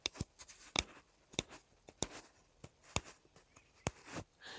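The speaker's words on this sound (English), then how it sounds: "It's clicking, my nail is catching on the edge of the knife." A fingernail drawn along the burr of a freshly sharpened knife edge makes a series of sharp, quiet clicks at an uneven rhythm, close and otherwise quiet.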